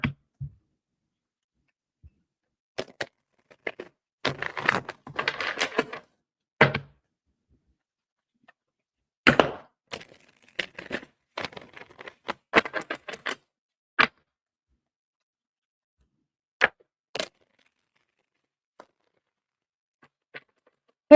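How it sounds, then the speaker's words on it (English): Tarot cards are shuffled in scattered bursts of quick, crisp riffling and tapping, close and clear against a silent background, with pauses between rounds. "Let me get a good shuffle."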